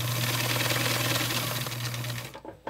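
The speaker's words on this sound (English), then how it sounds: "So you just continue to sew these veins." A sewing machine stitches leaf veins onto a doll bag, running in a fast, steady whir close by for about two seconds before stopping abruptly.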